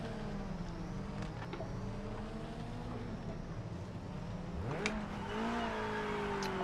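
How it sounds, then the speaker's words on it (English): Game cars drive past with steady engine drone and a rising pass-by sweep near the five-second mark, moderately loud with no talk. "I can hear cars driving out this time"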